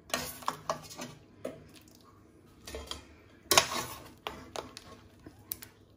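Cooked celery purée is scraped and spooned out of a cooking pot into another container, giving irregular metallic clinks and scrapes of utensil on pot with quiet pauses between them.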